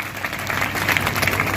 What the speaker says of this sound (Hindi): आप लोग एक बार जोरदार तालियों से अपनी उपस्थिति दर्ज करा दें